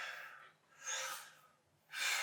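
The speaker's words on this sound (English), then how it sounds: "You're basically going to take a breath in and blow it out." Breaths drawn in and blown out during a spine-opening stretching exercise, two soft airy breathy bursts separated by a brief quiet gap, close and fairly quiet with no talking.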